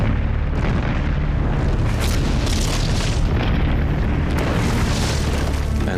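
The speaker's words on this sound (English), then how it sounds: "And for months, Haig's guns pound the village, until in the end, he has reduced it to dust." Artillery guns bombarding a village at Passchendaele in the First World War, heard as a dense, continuous rumble of booms and blasts, loud and near, with no speech.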